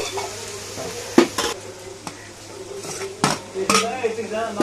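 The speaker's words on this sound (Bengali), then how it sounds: "ভালো করে নেড়ে চেড়ে কষিয়ে নেব এগুলো" Spoon stirring ginger, onion and garlic paste in a pot for duck curry, with several sharp metallic scrapes and clinks against the pot over a low sizzle, close and fairly loud.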